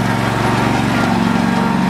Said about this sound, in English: She's gonna do some mowing on her own at the Troy Bilt. It's a 14 horsepower